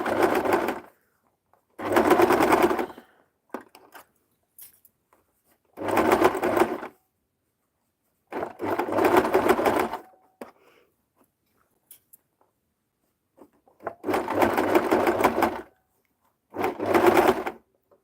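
A sewing machine stitching thick bag material runs in six short bursts of rapid needle chatter, each a second or so long, separated by silent pauses, close and clear with no voices.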